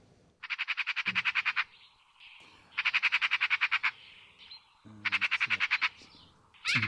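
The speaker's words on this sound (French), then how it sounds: "C'est une pie, ça." A magpie chatters in three loud bursts of rapid, harsh rattling notes, each lasting about a second, with quiet gaps between them and a faint fourth burst at the end.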